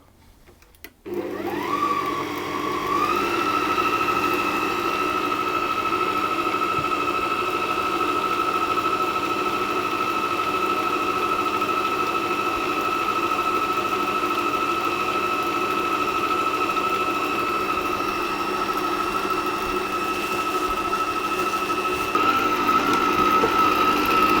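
A stand mixer kneads challah dough at low speed, its motor spinning up quickly and then holding a steady, close whirring hum for a long stretch, with no talk.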